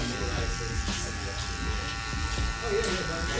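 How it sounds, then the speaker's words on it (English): Electric hair clippers buzz steadily and close while cutting hair during a high taper haircut at a barbershop, under someone talking throughout. "Okay, clipper closed, halfway open now."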